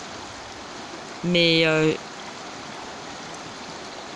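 A river flows in a continuous, steady broadband rush with no break. A single short word is spoken over it partway through.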